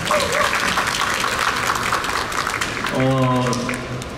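Applause from a seminar audience after an architecture lecture in Busan, steady broadband clapping filling the room for about three seconds before a voice starts talking over it.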